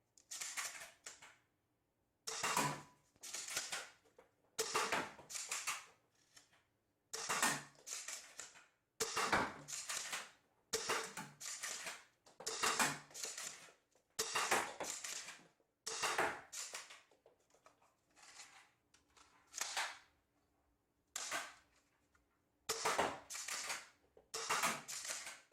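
A Kong Lie T-21 toy blaster repeatedly firing at a target, roughly twenty sharp, close snapping shots in an uneven rhythm with short gaps between them, with no talking.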